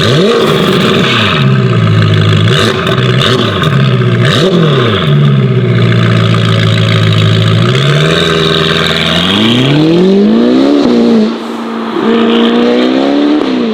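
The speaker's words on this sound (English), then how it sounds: "this car has got a Novitec Sports exhaust system" Novitec-tuned Ferrari Roma Spider with a Novitec sports exhaust, engine revving loudly and alone in repeated rising and falling pulls, then sweeping through steady climbing revs near the listener.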